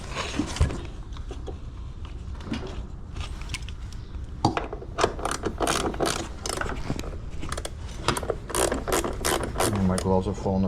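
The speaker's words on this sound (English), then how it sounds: "you can always use a basic socket set, but I like carrying this around" Ratchet socket wrench clicking in rapid bursts at close range while scrapping a washer and blower unit, with metallic clinks of parts between turns and a voice talking over part of it.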